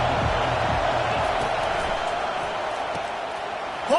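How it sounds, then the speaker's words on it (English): Football stadium crowd roaring for the defense on third down at a UGA at Virginia Tech college game in CFB 25, a steady loud wash of cheering that holds the whole time with faint play-by-play talk beneath it. "Decibels rising as the crowd gets behind this defense on third down."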